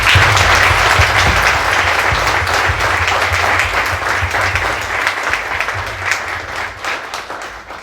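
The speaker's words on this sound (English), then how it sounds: "So please give them a round of applause." A conference audience applauds loudly with dense, steady clapping that gradually thins and softens over several seconds.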